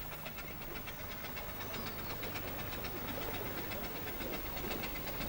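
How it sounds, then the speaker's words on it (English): The steam engine of the narrowboat President runs slowly, giving off a faint, steady mechanical chugging with regular rhythmic knocks over a constant hum, with no voices. "The engine must also run slowly"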